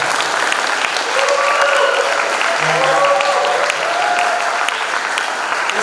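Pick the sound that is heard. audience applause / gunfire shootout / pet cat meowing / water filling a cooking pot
audience applause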